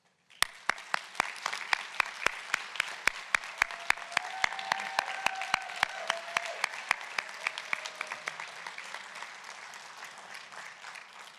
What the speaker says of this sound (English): Please join in a round of applause to all of our new members.